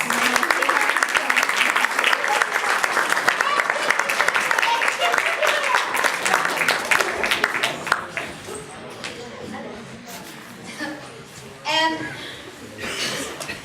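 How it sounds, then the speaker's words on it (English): An audience at SAM Fest 2014, during a musical climate-curriculum performance, gives a round of applause for volunteers: dense clapping for about eight seconds that then thins out, mixed with chuckles and voices. "Big round of applause."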